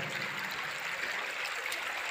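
Water flowing steadily inside the Kadali forest cave, a continuous close hiss and gurgle like a stream or trickle, with no voices over it.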